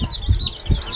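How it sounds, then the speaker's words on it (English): Laying hens and chicks in a warm greenhouse give low, soft clucks in a couple of short bursts, while high, thin peeping chirps run over them close by. "We have chicks that will lay for 2 years and then they will become the meat hens."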